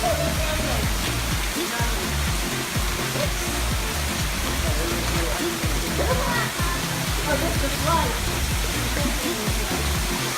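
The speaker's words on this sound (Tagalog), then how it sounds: "Waterfall is very nice" Steady, loud rushing of a waterfall at the Westown Lagoon water park in Cebu, a continuous broadband roar with voices faintly audible underneath.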